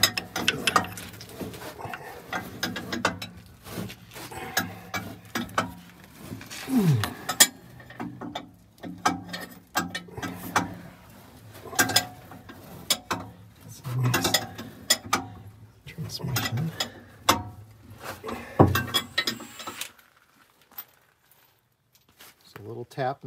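A loose bolt being worked out and removed on a Scenicruiser bus, with repeated ratcheting clicks and metallic scraping in irregular bursts, close by, under intermittent talk, ending in near quiet.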